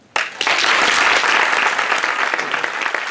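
An audience at a documentary film preview bursts into loud applause after a brief silence, the clapping swelling quickly and staying dense and close for the rest of the moment.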